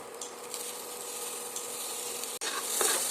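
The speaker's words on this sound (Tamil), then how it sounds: "இப்போ நம்ம கட் பண்ணி வச்சுருக்கிற தக்காளி இதில் சேர்த்துக்கலாம்" Chopped tomatoes fry with golden onions in a pan, giving a continuous close sizzle with light stirring scrapes. The sound cuts out for an instant near the end, then resumes slightly louder.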